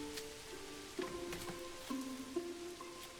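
Rain falls steadily in Manor Lords as a soft, close patter of drops, while a few light knocks and tones from the game sound over it.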